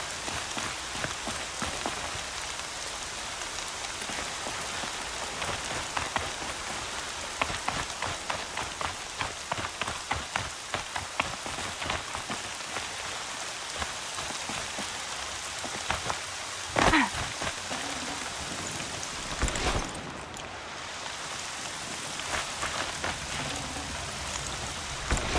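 Steady rain pours down in the open world of Horizon Zero Dawn, a dense continuous hiss of drops striking the ground and surfaces, with occasional louder splashes and a brief low rumble near the end, no talking.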